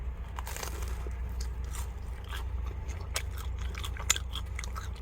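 Crisp corn-flour churro chewed at a highway rest area, giving soft, scattered crunching and crackling bites close to the mic over a constant low rumble.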